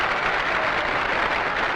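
Stadium crowd applauding and cheering at the 1965 MLB All-Star Game as Harmon Killebrew rounds the bases after a home run, a steady, dense wash of clapping and crowd noise throughout.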